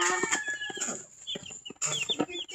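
45-day-old chicks on a rural farm in Southern Leyte, cheeping and peeping in quick, high bursts, close by, with short gaps and a brief lull midway before the chirping resumes.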